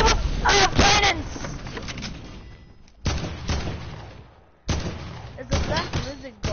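Cannons firing in a chaotic multiplayer video game battle against a black lizard guard, with loud bursts and booming blasts in several bunched volleys, mixed with excited talking and shouting.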